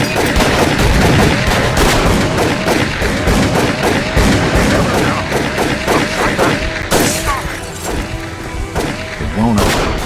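Gunfire in the video game Call of Cthulhu: loud, dense bursts of rapid shots and booming reports pound throughout, with voices shouting over the chaos.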